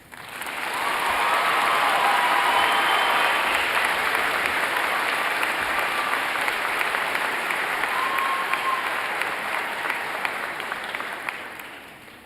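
A room full of people claps steadily for graduates at a university spring commencement ceremony, sustained loud applause alone with no talk, tapering off at the end.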